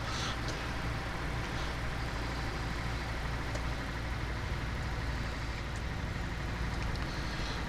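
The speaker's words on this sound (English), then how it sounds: "This truck is so cool." Simulated truck engine in Euro Truck Simulator 2 hums steadily throughout, a continuous low drone with faint higher whines and no talk.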